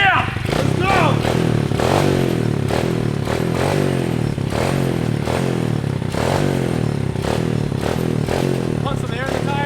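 Motorcycle engine running at idle with a steady, loud, even beat close by, while people talk over it.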